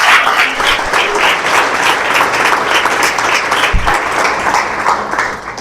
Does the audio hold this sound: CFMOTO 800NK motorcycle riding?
no